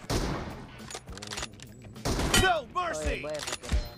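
Gunfire in a PUBG Mobile team deathmatch, several sharp shots and a headshot impact in quick bursts between stretches of talking, loud and close.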